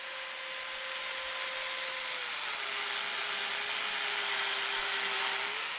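A Hoyoma chainsaw attachment engine whines steadily at a fairly constant pitch, dipping slightly as it bites into wood, with a rough cutting rasp throughout and no voices.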